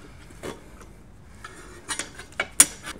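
A beveled spoon prying at the edge of a motorcycle tire, giving a few scattered metallic clicks and scrapes of varying strength, the loudest a sharp clink near the end, against a quiet background.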